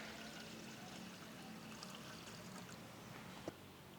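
Water pouring steadily into a pot of rice for khichdi, a continuous splashing flow with a small clink near the end.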